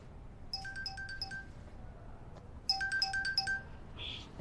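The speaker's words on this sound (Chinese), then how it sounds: "不好意思，我接个电话。" A phone ringtone chimes in two bright melodic bursts separated by a short pause, clear and close in a quiet room.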